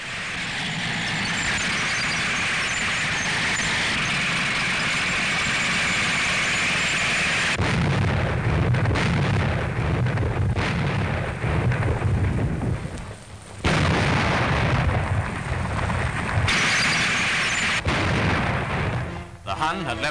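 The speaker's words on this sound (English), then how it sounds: "our flail tanks were hard at work" Wartime flail tanks clear abandoned mines, heard as a continuous loud rumble of engines and machinery broken by heavy explosive bursts and booming blasts that keep going without a pause.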